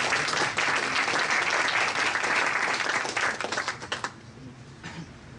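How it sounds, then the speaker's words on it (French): An audience at a FinTech startup meetup about Bitcoin applauds a presenter with steady, dense clapping that carries on for several seconds and then thins out into a few last claps. "On l'applaudit aussi."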